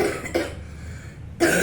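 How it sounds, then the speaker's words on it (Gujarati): A child with a cold coughs during a visit to the family doctor: two short, close coughs about a second apart, separated by a quiet, hushed room. "ઉધરસ ખાધી"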